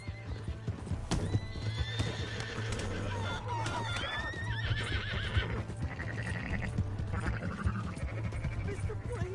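Horse in the video game Red Dead Redemption 2, with loud clip-clop hoofbeats and several shrill whinnies amid game ambience over a steady low hum.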